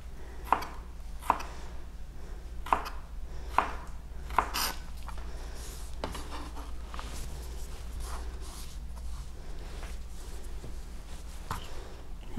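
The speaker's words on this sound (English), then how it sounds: "take your time with your onion and get those really good cuts" A knife chops an onion into square pieces on a cutting board, with sharp, close taps at an uneven, unhurried pace, spaced regularly at first then more sparse, over a low steady background hum.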